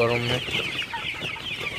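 Several Sonali chickens cluck and chatter close by while drinking water, a busy overlapping flock sound with a brief drawn-out call at the start.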